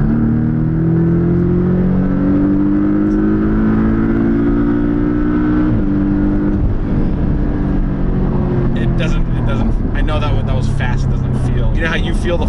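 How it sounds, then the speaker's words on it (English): A four-cylinder Porsche accelerates hard at full throttle, its loud engine note climbing steadily through the gears close to the listener, with voices in the car chiming in near the end. "Now you want me to floor it?"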